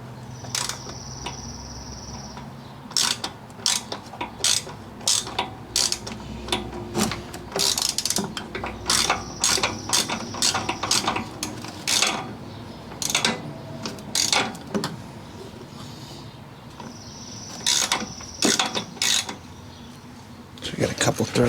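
A ratchet and socket thread a bolt on a 1995 Harley-Davidson Evo Softail, producing repeated short bursts of sharp metallic clicking close by, with pauses between strokes.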